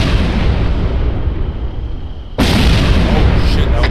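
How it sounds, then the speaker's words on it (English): Mortar rounds land close by during a field training exercise, with a loud, sudden blast cutting through steady background rumble, heard near and heavy while people talk around it. "Mortars. There was a landing right behind them."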